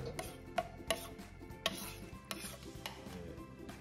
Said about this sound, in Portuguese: Aí a gente acrescenta mais um pouco de caldo e continua sempre mexendo.